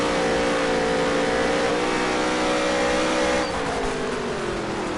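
Race car engines roar steadily in the NASCAR Heat 3 video game during a dirt championship race at Las Vegas, a loud continuous multi-car drone with a slight pitch drop late in the run.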